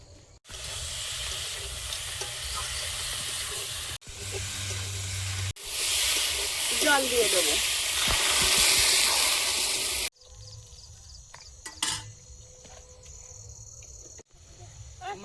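Pieces of fish belly fry in a pan with a steady, hissing sizzle. The sizzle comes in separate stretches that cut in and out, with a louder burst in the middle.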